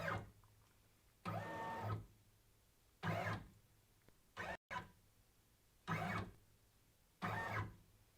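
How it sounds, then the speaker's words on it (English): An embroidery machine tracing the outline of a design in a hoop, making several separate motorized whirring runs of about a second each, broken by quiet pauses, close and moderately loud. "Now I'll trace to make sure that I don't have my needle going anywhere near"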